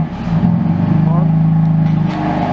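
A BMW M3 F80 with a CG Precision sound controller idles and revs with its exhaust valves shut, giving a steady, close, droning rumble that swells slightly midway and holds at a fairly loud level.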